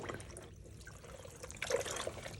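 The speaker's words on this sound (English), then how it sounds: "I will rinse it a couple times until the water mostly runs clear" Dyed fabric is rinsed gently in a bin of water set in a sink, with soft sloshing and trickling water that swells into a brief splashy pour near the end.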